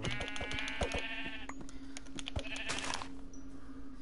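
Sheep bleat repeatedly on a Venezuelan farm, several overlapping calls up close over a steady background hum, with clicks and knocks in between.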